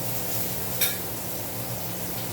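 Cumin seeds frying in hot oil, a soft steady sizzle with a brief crackling burst, close and alone.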